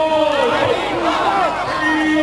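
Crowd of protesters at the Donapaula junction in Goa, held back by a police posse, raising a loud continuous din of overlapping shouts and chanting voices, close and steady throughout.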